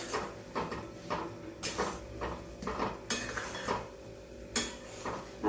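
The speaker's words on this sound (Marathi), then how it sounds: "आता हे तूप पण आपण छान असं मिक्स करूया" Semolina and ghee being stirred together in a pan for Goan sheera: a spoon scrapes and knocks against the metal in irregular strokes, close and moderately loud, with some bright clinks.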